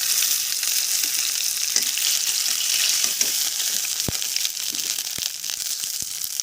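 Cumin and bay leaves fry in hot oil in a wok during village cooking, giving a continuous bright sizzle dotted with sharp crackles and pops that grow more frequent toward the end.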